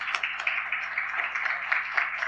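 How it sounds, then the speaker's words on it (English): Steady round of applause from an evening community audience welcoming a woman named Joanna: dense, even clapping that carries on throughout at moderate volume. "Let's give her a round of applause."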